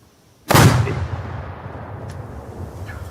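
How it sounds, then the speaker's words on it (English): A single loud gunshot cracks out close by after a quiet moment, followed by a long decaying echo and rumble that fades out over a few seconds. "This is the gun that broke my nose."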